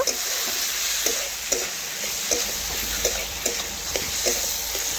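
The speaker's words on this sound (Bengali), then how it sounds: "এই দেখুন এইভাবে আমি আবারও এক থেকে দু মিনিট পর্যন্ত ভালোভাবে কষে রান্না করে নিচ্ছি পেঁপেটা" Boiled, drained papaya sautéed with spice masala in a pan, a steady close sizzle with regular scraping stirs about every second, no talk.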